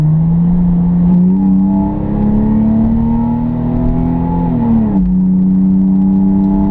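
A Ford car engine drones steadily after a downshift, a loud, close, smooth hum that climbs gently in pitch, drops back suddenly, then carries on evenly, with no talking.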